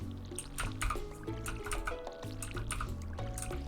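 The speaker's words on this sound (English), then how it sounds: "Oh, I should actually water my plants first since it's not raining today." A watering can sprinkles crops in Stardew Valley, giving soft repeated splashes and drips over a steady, gentle game music bed.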